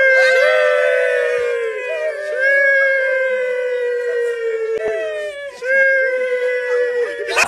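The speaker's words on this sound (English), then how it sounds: "This poor puppy was getting bullied until reinforcements arrived." Puppy whimpering and howling in long, high wavering cries that rise and fall, nearly continuous and close, with brief breaks between howls.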